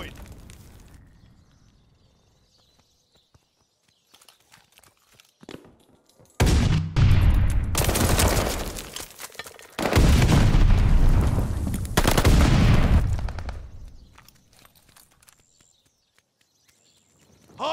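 In a video game hardpoint fight, sporadic faint shots give way to three heavy, loud bursts of sustained automatic gunfire and explosions, each lasting a couple of seconds, followed by quieter scattered shots.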